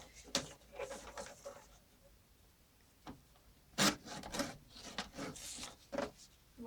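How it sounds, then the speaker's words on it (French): Scraps of paper are cut to length for a box, giving a series of faint, close, crisp snipping and rustling strokes in irregular bursts with quiet gaps between. "Là, je fais pas un pli, je découpe."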